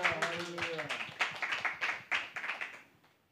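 A church congregation at a Sunday gathering claps together in praise, giving a run of fairly quick, uneven claps that fade out toward the end, with a voice heard at the start.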